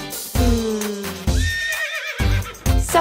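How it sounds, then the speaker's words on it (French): A horse whinnies loudly and close, a long shaky neigh rising and falling, with short bursts of sound before and after. "Et le cheval qui hennit,"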